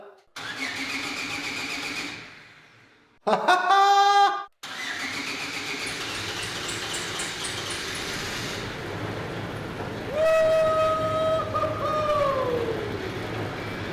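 A snow blower's small engine cranks with a short burst, then catches and runs with a steady, loud mechanical roar; a whining tone rises and falls near the end.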